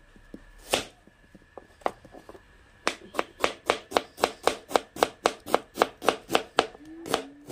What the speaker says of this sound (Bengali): তো এখন পেঁয়াজটা কেটে নিচ্ছে কুটি কুটি করে।